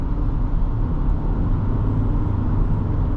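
A 2023 Toyota Sienna LE Hybrid minivan accelerates on the road, a steady low engine and road drone filling the cabin at an even level throughout, with no speech.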